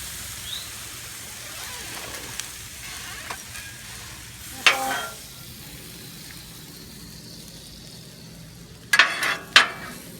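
Shrimp fried rice cooking on a Blackstone griddle, a quiet steady sizzle with a few sharp scraping bursts from a spatula near the end.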